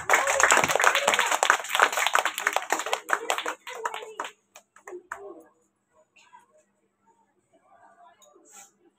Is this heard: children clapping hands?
yes